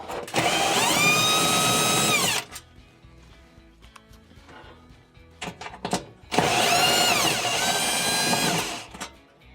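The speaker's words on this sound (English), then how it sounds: "To remove your bake element, there are two Phillips screws that you will want to remove." A power screwdriver backs out two Phillips screws from the bake element of a Whirlpool, Maytag or Roper oven. There are two loud, steady motor whines of about two seconds each, with quiet handling clicks between them.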